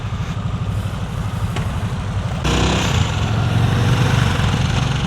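A Harley-Davidson Nightster's engine rumbles while riding, a loud, close, throbbing low pulse that swells as the throttle opens midway, with wind noise over it and no voices.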